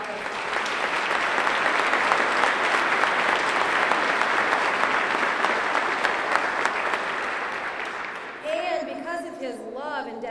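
Sustained audience applause at a shipyard keel laying ceremony, a dense, loud wash of clapping for about eight seconds that fades out as a voice begins speaking.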